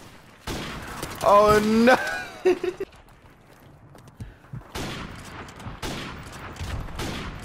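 Three sharp sniper rifle shots from Modern Warfare Remastered crack in quick succession, followed later by scattered softer gunfire and footsteps, with a player exclaiming over the action.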